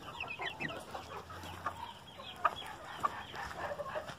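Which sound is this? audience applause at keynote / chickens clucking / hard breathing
chickens clucking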